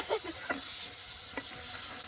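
Bitter gourd (karela) frying in a pan makes a soft, steady sizzle with a few faint stirring clicks, quiet and close, without any speech.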